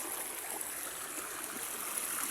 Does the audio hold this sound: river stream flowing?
yes